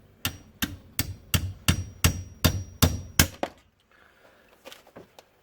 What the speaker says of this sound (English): I'm just using a punch and a hammer just to knock that first pin out just there